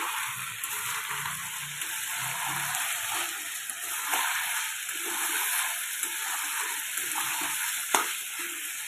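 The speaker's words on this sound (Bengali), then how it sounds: "এই যে চিকেন কষানো চলছে, এখন আলু দিয়ে করছি একটু কষা কষা আর কি" Pieces of chicken and potato sizzle in a pan with a steady close-up frying hiss, while a spatula stirs through them with soft scrapes and an occasional knock.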